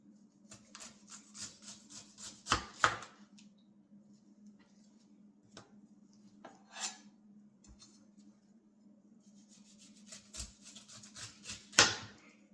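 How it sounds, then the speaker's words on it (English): A knife slices through a fresh pineapple, trimming its top and bottom. Soft, close scraping and sawing strokes come in irregular bursts with quiet pauses, and no one speaks. "It's time to start cutting up pineapple."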